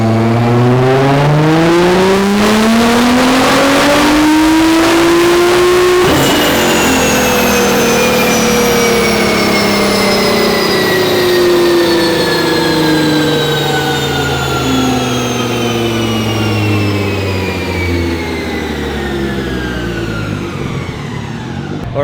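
A flex fuel car engine revs hard and loud on a dyno, pitch climbing steadily through the gears with a brief drop at each shift, then pulling high again for a long sustained run with no voices.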